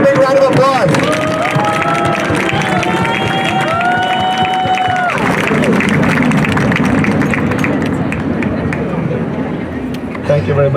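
At a street co-naming ceremony for Little Thailand Way in New York, a crowd applauds and cheers, the clapping swelling after a stretch of voices and tonal sound and carrying on amid general chatter.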